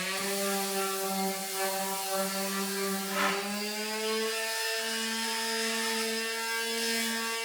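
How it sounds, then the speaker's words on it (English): Pallet wood slats being sanded for a headboard, with a power sander giving a steady, loud droning hum that shifts pitch slightly partway through and runs continuously. "going to go ahead and sand her planks"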